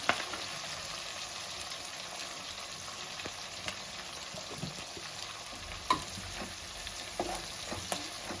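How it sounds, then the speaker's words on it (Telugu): Onions with mint and turmeric frying for mutton biryani, an even close sizzle with occasional soft stirring clinks from a spoon in the pot. "పుదీనా వేసుకొని కలుపుకున్న తర్వాత లైట్గా పసుపు వేసుకుందాం"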